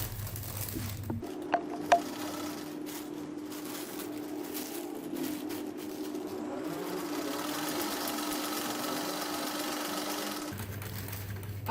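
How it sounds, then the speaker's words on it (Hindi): A sewing machine runs steadily for about nine seconds, stitching along the side of a churidar pajama bag, with a brief start-up and a quiet stop at the end. "मैं इसकी साइड पर सिलाई लगाते हुए आपको दिखा रही हूँ कि सिलाई अपने किस तरह लगानी है।"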